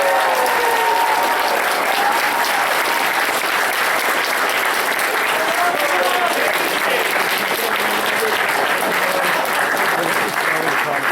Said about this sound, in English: everybody give a huge round of applause for Sam as well.